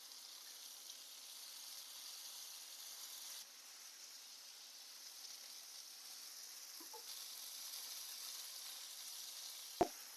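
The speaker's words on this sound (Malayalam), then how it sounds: "തീ കുറച്ചിട്ട് മൂപ്പിച്ചെടുക്കണം." Brinjal slices fry in a pan over a low flame, giving a steady soft sizzle and hiss throughout, with a brief louder clink near the end and no talking.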